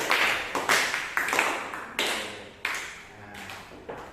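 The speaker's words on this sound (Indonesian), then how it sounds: "Oke, tepuk tangan ya untuk kalian semua ya" A class of students clapping together in a classroom, a quick burst of applause with sharp, fairly close hand claps coming in uneven clusters over a few seconds.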